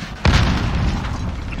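A claymore mine detonates in Call of Duty Modern Warfare multiplayer, one sudden close, heavy boom followed by a lingering rumbling tail of debris and ambience.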